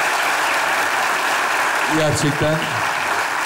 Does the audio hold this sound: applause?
yes